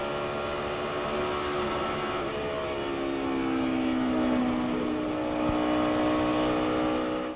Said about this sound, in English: If you listen, you really can hear them get back on the gas.